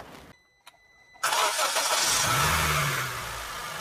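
Honda Amaze car engine cranking after a major service and clutch service, then catching and settling into a steady loud idle after brief clicks; close by, with no talk.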